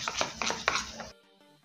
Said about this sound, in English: So you just have to mix it very well until there are no lumps in it.